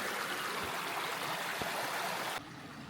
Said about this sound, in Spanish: Qué bonito con el río aquí.